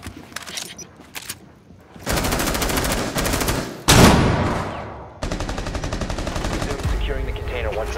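Rapid machine gun fire in Rainbow Six Siege on the Park map, loud sustained bursts with short gaps between them, close and continuous, no talk over it.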